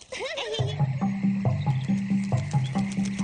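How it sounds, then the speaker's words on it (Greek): Frogs at a pond croak in a rhythmic series of repeated, evenly spaced calls, close and clear in a cartoon soundscape, with a brief rising squeak at the start. "Θα πήγε στη λιμνούλα. Εκεί ζουν οι βάτραχοι."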